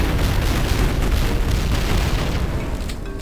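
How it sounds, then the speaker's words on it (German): A loud, rumbling explosion from the video game Duke Nukem 3D bursts and rolls on for a few seconds before tapering off, with no speech over it. "die Explosion wird ein bisschen anspruchsvoller"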